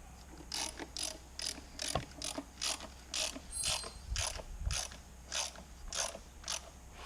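A ratchet clicks in regular bursts, about a dozen evenly spaced strokes, while old bolts go back into a Vauxhall Calibra during a major service; a few dull knocks sound underneath, and no one talks.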